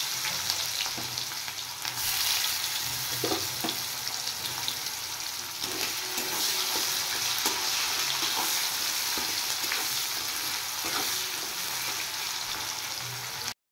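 Chopped onion frying in oil with bay leaf and whole cumin for a fish curry, a dense, continuous sizzle close to the pan with occasional soft stirring scrapes, steady and moderately loud without any speech.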